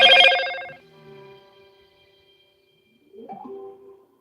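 A phone ringing repeatedly: a bright electronic ringtone burst opens loudly and fades out, and after a pause a shorter, fainter chirp follows, with no talking over it.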